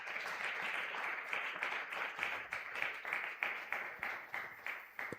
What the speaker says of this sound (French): Est-ce qu'on peut acclamer très fort pour la gloire de Jésus?